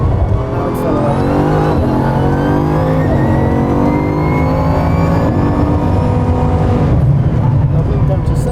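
A 1,600-horsepower Bugatti accelerates hard, its engine roaring loud and steady with rising harmonic tones across the whole stretch while a driver and instructor talk over it inside the cabin.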